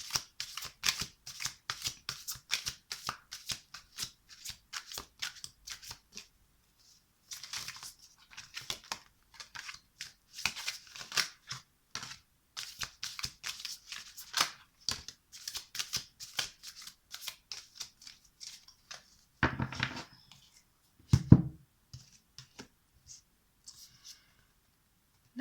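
Tarot cards being shuffled by hand over about 25 seconds, a steady run of crisp riffling flicks broken by short pauses and a couple of louder slaps near the end, close and clear with no talking.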